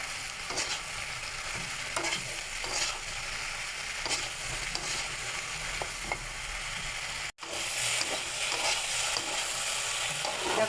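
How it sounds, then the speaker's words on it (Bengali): Shrimp and taro stolons fry with chili powder, cumin and salt in a pan, under a continuous close sizzle broken by regular scraping stirs, with one brief dropout near the end. "এবার এটাকে সুন্দর করে কষিয়ে নেব।"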